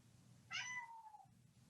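A cat lets out one short meow during a quiet zoning board meeting, a clear single call with a falling pitch heard against a faint room hum.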